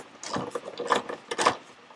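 A hand ratchet backs out carrier bearing bolts on a Pontiac GTO during a clutch install in a shop. Quick, close clicking strokes come in short bursts, with the loudest pulls near the middle and end.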